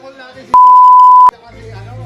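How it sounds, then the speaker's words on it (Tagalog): A single loud, steady electronic beep lasting under a second at an outdoor camp in Tagaytay during food preparation, with faint background voices and a low hum afterward. "Ay, na-beep."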